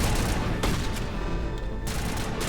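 Gunfire in Mass Effect Legendary Edition, a dense continuous fusillade of overlapping shots and blasts, loud and close, with a few sharper cracks standing out from the steady roar.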